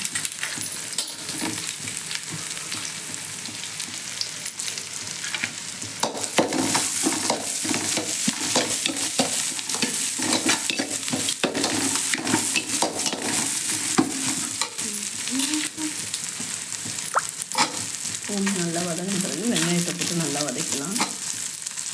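Coarsely crushed black pepper and garlic sauté in a pan for spicy fish curry, a loud, dense sizzle with rapid stirring clicks and scrapes that grow busier, plus squeaky metal scraping toward the end.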